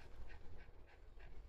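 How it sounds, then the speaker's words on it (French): A dog pants in quick, steady rhythm close by, soft breathy bursts repeating about every third of a second, with low indoor rumble underneath and no talking. "Il me fatigue ce chien."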